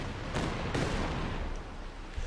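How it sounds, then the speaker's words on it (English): Stuka rocket artillery barrage firing in Company of Heroes 2, a dense, continuous roar of launches and blasts with a few sharper bursts, loud and sustained with no talking. "So now I'm going to counteract this by lobbing a Stuka barrage in this general direction."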